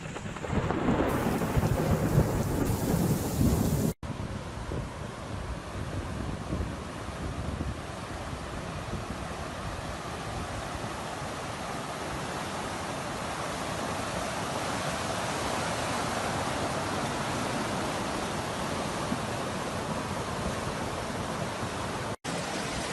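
Heavy rain and thunderstorm in Amman, Jordan, a dense continuous roar of downpour with a loud rumbling burst at the start, steady and unbroken throughout with no voices.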